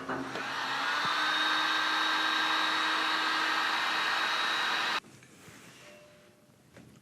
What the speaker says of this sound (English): all you do is slide it over, put your hose on, and then hit it with a heat gun